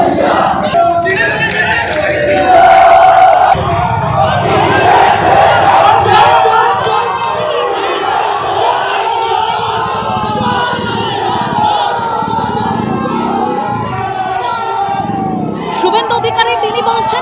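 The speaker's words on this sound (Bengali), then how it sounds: "কনভয় লক্ষ্য করে টিএমসিপির স্লোগান একেবারে কলেজের গেটের ভেতর থেকে, আর বাইরে বিজেপির কর্মী সমর্থকরা তারাও পাল্টা স্লোগান দেয়" A crowd chanting political slogans at a college gate, with Trinamool student supporters shouting from inside and BJP workers answering with counter-slogans outside, loud, rhythmic and continuous, with overlapping shouting voices throughout.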